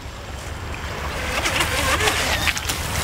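A small balsa-wood RC boat, the Prowler, running a 2S battery, churns across open water with a steady whirring propeller and splashing spray that grows slightly louder, set against a broad wash of water and wind.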